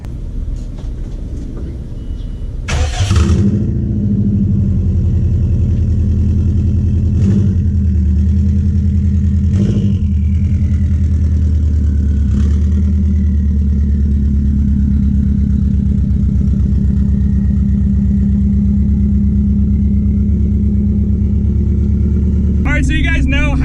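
Bugeye Subaru WRX running a straight-pipe exhaust, heard from inside the car: a loud, steady low engine drone that holds throughout, with a brief burst near the start and a short rev flutter at the end.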